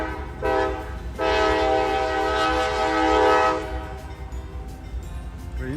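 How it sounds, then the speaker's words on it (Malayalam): A train passes near Windmill Island in Holland, Michigan, during the tulip festival, sounding a loud, sustained horn for about three seconds over a steady rumble of rail cars that fades afterward. "ട്രെയിൻ പോകുന്നുണ്ട് അവിടെ"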